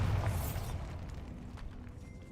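A Bombarda spell in Hogwarts Legacy sets off a deep, booming blast in a decayed catacomb at the very start, then it rumbles and fades away over the next two seconds.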